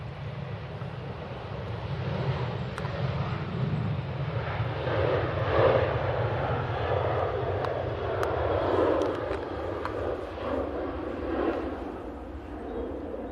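Cathay Pacific A350-900 airliner at Manchester Airport bound for Hong Kong, a steady distant engine roar with low rumble and wind buffeting the microphone, holding even throughout.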